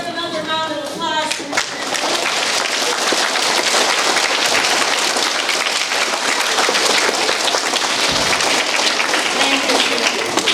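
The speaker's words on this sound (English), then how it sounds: "Let's give another round of applause." An audience at a veterans program breaks into sustained, dense applause after a brief opening sound, clapping loudly and evenly for about nine seconds before a short dip near the end.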